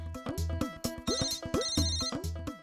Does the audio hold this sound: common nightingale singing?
no